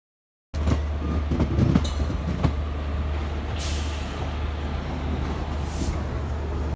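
A passenger train runs on rails toward Coimbatore, a steady loud rumble with rhythmic rail clatter and occasional brake hiss, heard from inside the moving coach.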